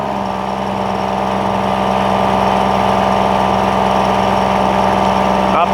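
A Kubota diesel engine on a cold-water trailer jetter runs at about half throttle with a steady, loud, thrumming drone and slight vibration, close by and continuous throughout.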